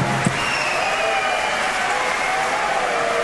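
Darts crowd at a European Darts Trophy match cheering and clapping in a steady, dense roar that fills the arena, with no clear break.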